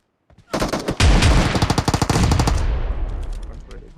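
Loud, close automatic gunfire in the mobile game PUBG Mobile, a rapid burst of rounds that fades into echoing tails.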